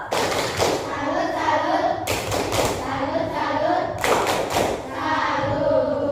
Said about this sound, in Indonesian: Beri tepuk salut kepada kelompok 2.